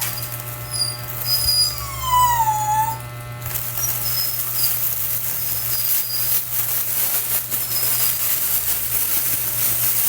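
A dog howling during a live stream, a rising and falling wavering cry heard early on, fairly faint over a steady hum and background noise.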